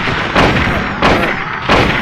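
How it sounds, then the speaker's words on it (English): Rifle fire in the video game Silent Hill: three loud, evenly spaced booming shots, each with a short decaying tail, fill the brief clip. "I will do here is equip my rifle, hit the reload"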